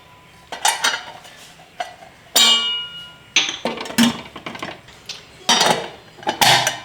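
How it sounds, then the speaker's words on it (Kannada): A pressure cooker lid being closed in a home kitchen makes a series of sharp metallic clanks and scrapes, loud and close, in irregular bursts separated by short quiet gaps. "ಕುಕ್ಕರ್ ಲಿಡ್ನ ಕ್ಲೋಸ್ ಮಾಡೋಣ"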